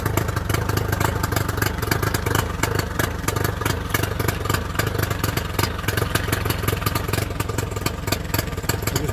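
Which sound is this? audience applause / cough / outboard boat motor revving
outboard boat motor revving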